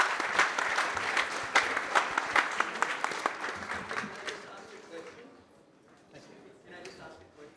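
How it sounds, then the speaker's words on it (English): Applause from a conference audience at a global health congress, strong individual claps at first that thin out and fade to scattered clapping and quiet, with some speech afterward. "a big round of applause"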